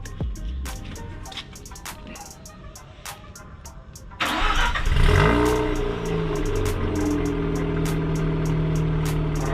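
A Mazda RX8 S2 rotary engine cranks and fires up, then settles into a loud, raspy revving exhaust drone through an aftermarket mid pipe and stock muffler, holding steady close by; no voices.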